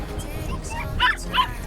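A puppy at the beach on a dry, windy day gives two quick high yips against a breezy background, with a voice faintly mixed in.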